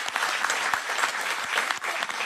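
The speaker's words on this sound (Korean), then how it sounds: "크게 박수 한번 주세요." Lawmakers and attendees clapping in a Korean National Assembly hearing room during a parliamentary audit, a sustained crisp patter of many hands with a few sharper claps standing out.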